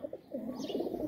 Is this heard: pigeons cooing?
yes